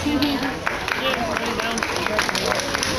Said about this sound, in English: let's give the sea lions and their trainers a big round of applause